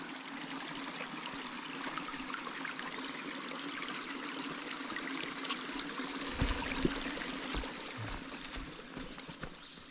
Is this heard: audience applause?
no